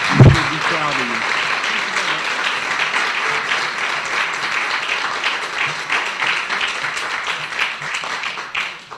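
An indoor audience applauds the Nunez family at an award ceremony. Sustained clapping opens with a brief thump and faint voices, then continues steadily and fades slightly toward the end.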